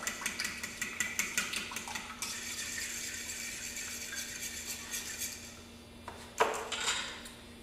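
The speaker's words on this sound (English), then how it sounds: "So mix that all up really well" Dairy-free flan ingredients are mixed briskly in a bowl, with quick rhythmic clinks of a utensil against the rim, then a softer swirl and a final louder knock.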